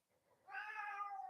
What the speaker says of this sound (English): He's now meowing, wanting a bit of attention.